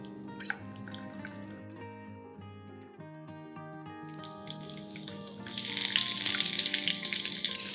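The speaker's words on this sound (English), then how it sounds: "we're going to add in garlic and sliced onions" Garlic and sliced onions go into hot coconut oil for a Malvani mushroom curry, and a broad, hissing sizzle swells up over the last couple of seconds beneath steady melodic background music.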